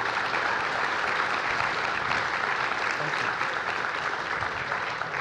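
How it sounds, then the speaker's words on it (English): An audience applauds steadily after a panel session at an international World War II conference, a full, even round of clapping from a large room that continues throughout with no break. "Well, round of applause for our wonderful session."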